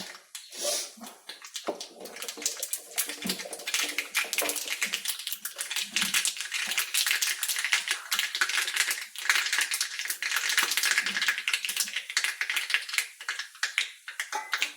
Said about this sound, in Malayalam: വെളിച്ചെണ്ണ ചൂടായി നമുക്ക് സ്പൂൺ കടുകിടാം